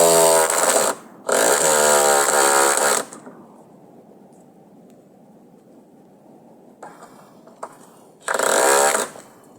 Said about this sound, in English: I am moving on now to getting the lumbers and install the screws at the bottom of them.